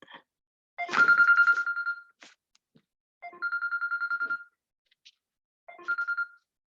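A mobile phone rings during a lecture videoconference, sounding three bursts of a trilling electronic ringtone with short pauses between them. It is clear and prominent against a quiet room.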